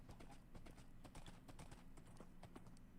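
Horse hooves clip-clopping in Minecraft, a quick, busy stream of close, fairly quiet hoofbeats in an irregular trotting rhythm, with no talking.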